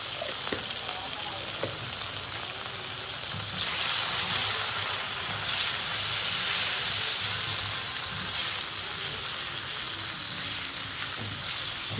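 Bitter gourd frying in hot oil with salt and turmeric, a steady close sizzle running unbroken throughout.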